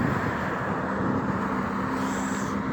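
Steady traffic on a street, with cars rolling past at an even pace and a constant broadband roadway hum that never drops away.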